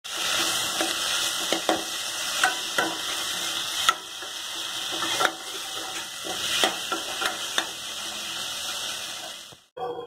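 Onion, tomato and cashews for a capsicum masala curry frying in a pan, a constant close sizzle with a steady high whine and intermittent clinks and scrapes of stirring, no talking.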